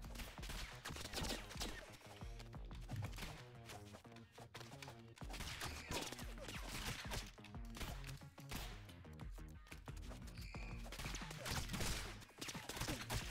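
Dense, continuous barrage of rapid gunfire with ricochets in the video game Rounds, loud and chaotic throughout with no pauses.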